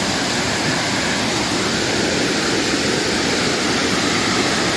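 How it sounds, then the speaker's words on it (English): A waterfall at Ricketts Glen State Park on a wet, steep trail. Its roar is heard close up as dense, loud, unbroken rushing water, with no voices over it. "Coming up on the third waterfall here."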